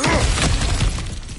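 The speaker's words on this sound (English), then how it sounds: "Ah, back to smashing through things for fun and profit." A brief, loud shattering crash as objects are smashed in God of War Ragnarök, splintering debris that rattles and fades within a second and a half.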